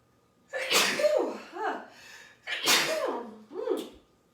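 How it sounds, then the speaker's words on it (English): Two loud sneezes close by, each a sharp burst followed by a shorter after-sound, separated by a brief pause. "I need to sneeze."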